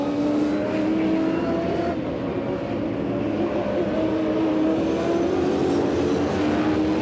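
V8 Supercars racing side by side at the fastest point of the Tasmania track, their engines a loud, sustained roar that stays close and steady throughout with a droning pitch that drifts slightly.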